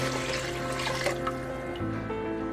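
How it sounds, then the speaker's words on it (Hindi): Water pours steadily into a pot of dal and rice khichdi with a spoonful of desi ghee, a continuous close gush and trickle that shifts pitch slightly as the pot fills. "और इसमें मैं पानी डाल दूंगी।"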